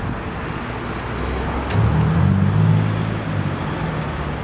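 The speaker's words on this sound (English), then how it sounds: "When we're walking on the street, we can hear cars running" Cars running along a city street, a continuous traffic rumble with one vehicle swelling louder as it passes near, then easing back into the steady background drone.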